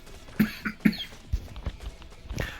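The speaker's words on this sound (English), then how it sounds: "sorry, still got a little bit of a cough" Short dry coughs from a man with a lingering allergy cough, several bursts spaced across a couple of seconds, fairly close and moderately loud, with no talk.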